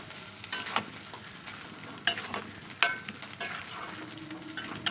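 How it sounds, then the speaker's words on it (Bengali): Egg makhani with green chilies stirred in a pan, a continuous sizzle broken by several sharp scrapes and clinks of the spoon against the pan, with no one talking. "দিয়ে এবার নাড়াচাড়া করে নামিয়ে নেব"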